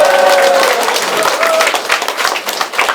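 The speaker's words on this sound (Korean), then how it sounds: "큰 박수 부탁드리겠습니다" Supporters applaud at a campaign office opening for a county head candidate in Yecheon, a dense crowd clapping loudly with a voice over the start that fades under the ongoing applause.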